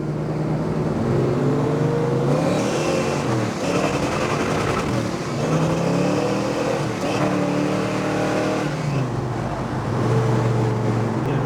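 A 1968 Chevelle SS muscle car engine rumbles and revs steadily throughout, loud and close, with gear changes and rising pitch sweeps as it drives, with brief speech underneath.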